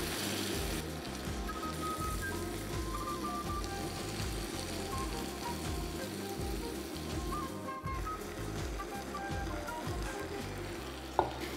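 Chicken and freekeh with broth sizzle and bubble in a pan, a steady close crackling frying sound with occasional stirring clinks, no talking.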